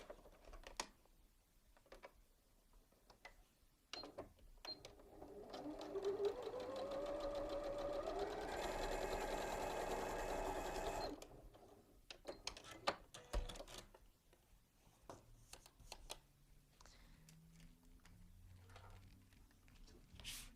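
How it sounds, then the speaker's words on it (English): A sewing machine stitches quilt squares together, starting with a few taps, then running in a continuous fast rattling burst of about six seconds before stopping, followed by scattered quiet clicks and handling. "you're going to sew one on either side of those."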